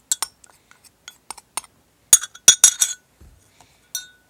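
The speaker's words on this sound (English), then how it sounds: "you're going to stir that together a little" A spoon stirring a cinnamon bronzer mixture inside a glass, giving a run of sharp clinks and taps at uneven intervals, close and fairly loud, with a soft low thud near the end.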